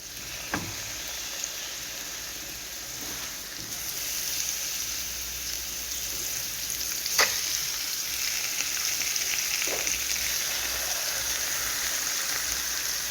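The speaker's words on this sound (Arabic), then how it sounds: "هحط اللحمه بس اديها تشويحه كده، اديها صدمه" Meat sears in a hot pan for a mixed vegetable and meat bake, giving a steady, close sizzle throughout with a few faint clicks and taps, and no talking.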